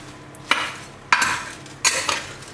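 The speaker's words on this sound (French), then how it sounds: "On va mélanger le reste de la chapelure" Breadcrumbs and thyme stirred into courgette slices in a pan, three distinct scraping stirs at roughly even intervals with a soft sizzle underneath, close and clear, no voices.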